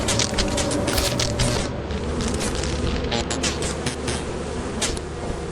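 A beehive in the video game Lethal Company gives off a dense, constant insect buzz that stays loud and close throughout, with thumps and clatter mixed in.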